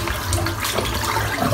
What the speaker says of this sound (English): I'm just emptying this sink out because it's chockers full of thick lather.